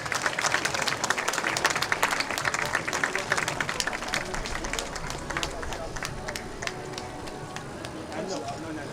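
A crowd at an outdoor rally by the Vancouver Art Gallery applauds a women's song circle, steady dense clapping with scattered cheers running for several seconds, a voice heard over it.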